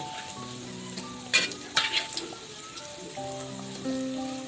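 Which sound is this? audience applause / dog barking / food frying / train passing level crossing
food frying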